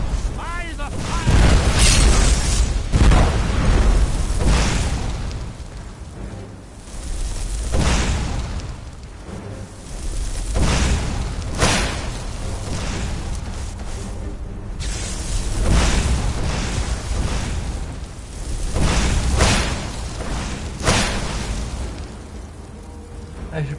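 Repeated whooshing fire blasts from flame staffs in Skyrim, broad bursts recurring every few seconds at fairly close range, mixed with game noise and a voice talking over them.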